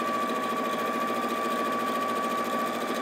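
A domestic sewing machine stitches fabric in a straight stitch, making a fast, even mechanical whirr with a rapid regular pulse that runs steadily throughout, alone and without talk.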